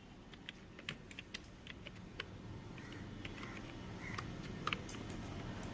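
Soft, quick keystrokes on a computer keyboard as numbers are typed into an Excel spreadsheet cell, a steady patter of light clicks close to the microphone over a faint room hum.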